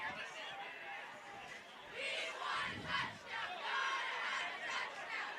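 At Kamitian Field, a crowd at a high school varsity football game between Holliston and Scituate gives a swelling roar of shouts and chatter, distant and diffuse, rising in bursts.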